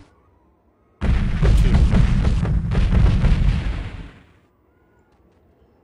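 Barrels exploding in the video game Delta Force 2, a loud roaring blast that starts suddenly, rumbles for about three seconds and fades away.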